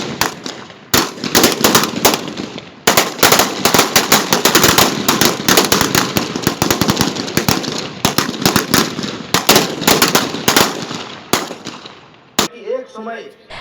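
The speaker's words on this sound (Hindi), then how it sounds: "इस अवसर पर सशस्त्र बल द्वारा हर्ष फायर किए गए" Armed forces fire celebratory volleys at a Republic Day parade: dense, rapid crackling bursts of gunfire, loud and sustained for about twelve seconds before stopping abruptly, with faint voices afterward.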